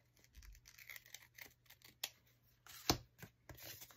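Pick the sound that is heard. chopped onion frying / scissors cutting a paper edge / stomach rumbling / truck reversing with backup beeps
scissors cutting a paper edge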